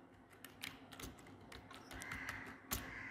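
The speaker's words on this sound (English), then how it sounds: "I'm typing my password" A password typed on a computer keyboard, a quick irregular run of soft, close key clicks with a few louder taps, quiet and without talk.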